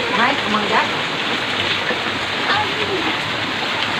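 Heavy rain pours steadily, a loud dense hiss of drops on surfaces throughout, with faint voices in the background.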